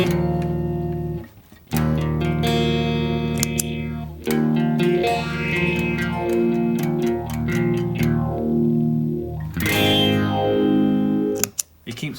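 An electric guitar runs through a Tone City Summer Orange phaser pedal, with chords and picked notes swirling in a steady sweeping phase while the volume holds even, ending with a bright strum.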